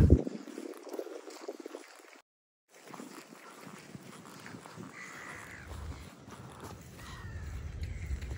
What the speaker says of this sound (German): Die sind aber laut.